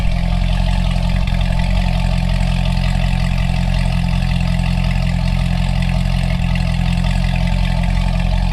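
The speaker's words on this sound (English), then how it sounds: "Let's hop out and listen to the exhaust" A car's stock exhaust idles steadily and loudly up close, a constant low rumble with no revving or talk.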